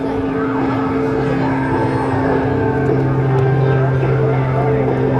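An Extra 300L aerobatic propeller airplane engine drones loudly and steadily at an airshow, its pitch shifting slightly as it tumbles and maneuvers, with wind noise throughout.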